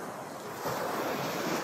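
Sea waves wash onto a gently sloping golden sandy beach near Feodosia in Crimea, a continuous close rushing surf that swells slightly louder partway through, with wind noise.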